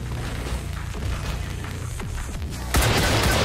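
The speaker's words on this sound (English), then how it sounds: "And rockets." Rockets firing and exploding in XCOM 2 with a Warhammer 40k mod, a dense rumbling barrage of blasts that suddenly jumps louder into a bright crashing burst near the end.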